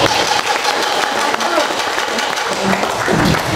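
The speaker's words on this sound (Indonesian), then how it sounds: "Tepuk tangan buat semua" Applause at a public gathering on election watch and campus activism, dense clapping filling the room for several seconds while voices murmur underneath.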